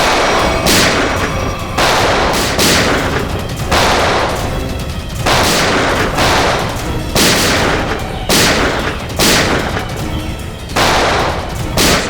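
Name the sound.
gunfire in a TV crime drama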